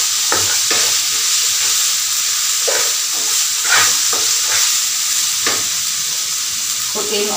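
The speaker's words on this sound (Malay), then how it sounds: "Saute properly." Mutton varuval sizzles steadily in a pan while being sautéed with dried chilies, shallots and curry leaves. A loud, continuous frying hiss is broken by occasional stirring scrapes, and nobody speaks.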